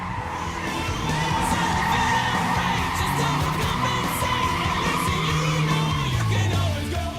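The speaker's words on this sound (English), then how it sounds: "It's like drifting on butter" Modified car drifting in first gear, loud sustained tire squeal and skidding with engine roar running throughout, pitch sliding downward near the end.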